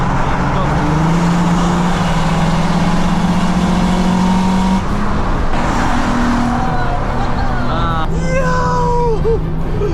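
A rare 3.2 V6 car races along a road, its engine droning steadily and climbing in pitch, with a second vehicle's revs rising and passing near the end; a voice talks over part of it.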